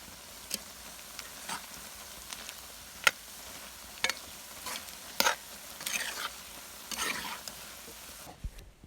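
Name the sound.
soybeans frying in a pan until light brown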